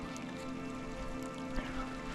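Rain falls in alpine high country near mountain lakes with snow on the peaks. It makes a steady, even patter throughout, with no voices.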